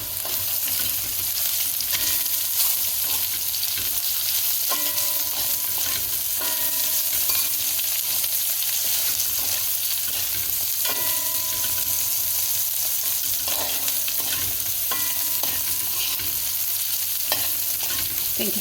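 Okra and onions fry in a pan, Trinidad style, with a steady loud sizzle throughout and occasional stirring scrapes and clinks, no talking.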